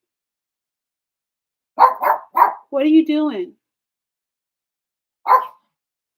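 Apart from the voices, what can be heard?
dog barking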